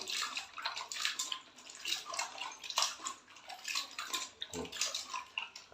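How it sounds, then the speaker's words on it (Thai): Apple snails are rinsed in water to clean off dirt, producing steady sloshing and splashing with swirling water and little drips, moderately close and continuous throughout. "ทำการ ล้างน้ ำก่อนครับ ล้างสิ่สกปรกุณหออกวันครับผม"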